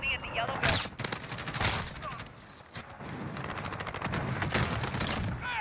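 Heavy gunfire from the 725 shotgun and other weapons in Call of Duty: Modern Warfare, loud and dense with rapid bursts and overlapping shots, continuing steadily throughout with game sounds in the mix.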